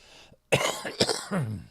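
A man coughs and clears his throat in a few harsh, close bursts, the middle one loudest, ending in a rough rasping breath.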